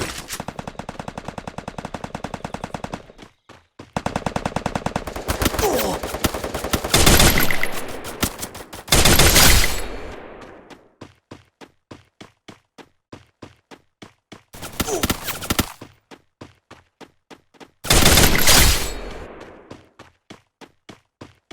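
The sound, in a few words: gunfire in Free Fire video game on Poco M2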